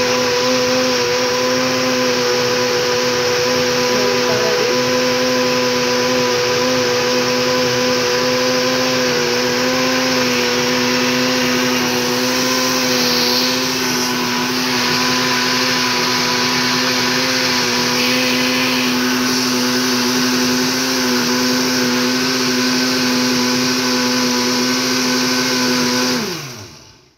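A blender whirs continuously for nearly half a minute, blending Jamaican-style healthy juice ingredients, loud and close with a steady motor drone that holds pitch, then cuts off at the end.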